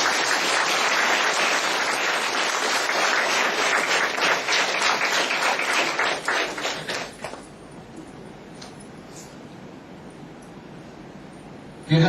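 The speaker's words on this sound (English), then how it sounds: "Claps for Sanmati." An audience claps together at a spiritual talk on meditation, dense and sustained applause for about seven seconds that thins into scattered claps and then dies away to quiet room tone.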